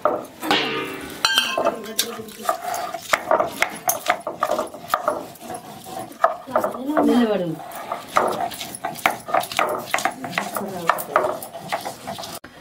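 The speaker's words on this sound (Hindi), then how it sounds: "ये देखिए मसाला पालक बना रहे हैं हम, तो इसमें लहसुन मिर्चा जीरा का हम पेस्ट डाले हैं।" Masala spinach cooking with a garlic, chili and cumin paste, as a metal spoon scrapes and clinks against a pot in quick repeated strokes, with talking and a dog barking briefly in the background.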